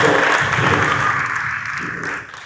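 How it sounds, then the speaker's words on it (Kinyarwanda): Church congregation clapping together during a worship service in Musenyi, a dense steady wash of many hands that stays loud throughout before easing slightly near the end. "Dukomere amashyi menshi Imana"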